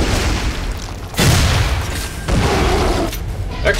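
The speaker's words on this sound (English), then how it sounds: "Yes. Explosions!" Two heavy booming bazooka blasts roll out one after another over a constant rumbling soundscape in the video game Shadow Warrior, loud and close.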